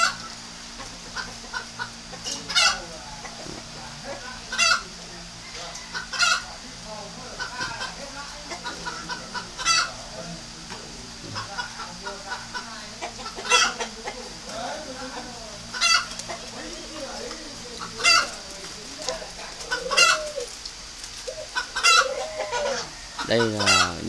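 Breeding spotted doves kept in pairs call repeatedly in bursts, close and fairly loud, over a steady background of other bird and farmyard noise throughout.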